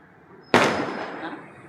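A single firecracker bursts with a sharp, loud crack that decays into a hissing, crackling tail lasting about a second, preceded by a faint whistling tone.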